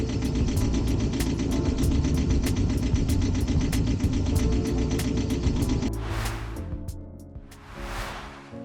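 A boat's inboard engine runs with a newly fitted tachometer, giving a close, steady mechanical rumble with a regular ticking beat that gives way near the end to lower, uneven sound with two swelling whooshes.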